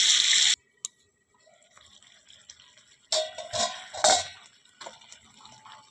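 Water is poured into mutton browning in a pan during Bengali kosha cooking, a short hissing pour at the start followed by louder sizzling, splashing bursts later on.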